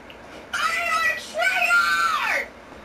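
A boy screams during a Fortnite session, two sustained high-pitched shrieks back to back, loud and close, the second rising and then trailing off.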